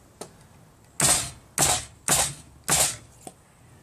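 A fire piston is struck to ignite tinder, giving four sharp, loud smacks spaced about half a second apart, with a couple of faint clicks before and after.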